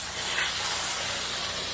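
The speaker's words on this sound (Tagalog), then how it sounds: "Spray muna tayo ng Sunrox sa kulungan." Steady hiss of Sunrox disinfectant sprayed inside a pig pen, a continuous close spray lasting a couple of seconds with no talking.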